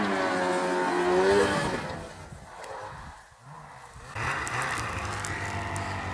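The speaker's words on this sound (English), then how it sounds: "Back out my snowmobile and come down behind me." A snowmobile engine drones through deep snow, loud and close at first, then dipping and rising again as the machine moves.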